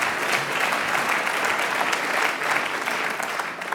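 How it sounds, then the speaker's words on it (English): Steady, dense applause from a large audience at the official opening of the Daniels Building at One Spadina Crescent, a continuous wash of many hands clapping throughout with no break. "That's worth applause."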